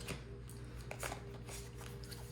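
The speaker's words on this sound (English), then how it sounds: "separate each card and then shuffle it a few times" A new deck of playing cards being shuffled, a soft papery riffle with quick flicking bursts running steadily for a couple of seconds over a low background hum.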